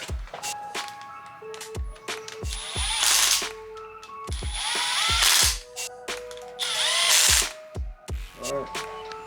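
A power tool whirs and ratchets in short, sharp close bursts while bolts are tightened during a K-series engine timing chain install, with pauses between pulls and someone talking in between.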